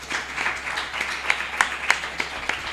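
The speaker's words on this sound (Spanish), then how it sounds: "un aplauso para Gun Kaiser" An audience at a Spanish-language gaming podcast event claps steadily for nearly three seconds, a moderate, even wash of applause with a few sharper individual claps standing out.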